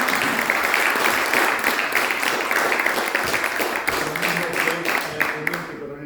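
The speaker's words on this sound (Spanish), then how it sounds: "Pido un aplauso para el señor." Sustained audience applause for a speaker, a thick wash of clapping from a crowd that keeps going throughout, with a few voices faintly mixed in.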